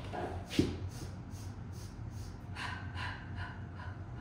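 Rhythmic short sniffing breaths during a classical mat Pilates breathing exercise, a rapid series of quick nasal inhales and exhales, close but soft, over a low background hum.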